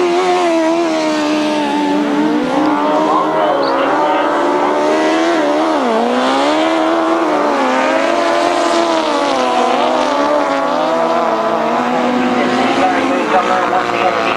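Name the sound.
racing motorcycle engine at speed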